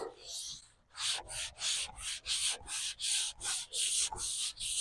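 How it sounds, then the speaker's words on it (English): Long block sanding across painted bodywork of a Mercury Monterey, rhythmic back-and-forth hissing strokes, about eight even passes with a rougher rasp, close and steady, with no talk over the strokes. "So that's when you're cutting the paint, it makes that deeper sand"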